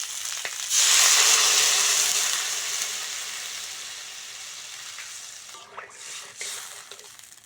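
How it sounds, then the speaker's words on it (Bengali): Water poured onto fried potato and cauliflower in a hot pan erupts into a loud, bright sizzle that gradually fades to a softer hiss, with a brief clatter near the end. "আলু ফুলকপিটা ভালো করে ভেজে নিয়েছি এবার জল দিয়ে দেবো"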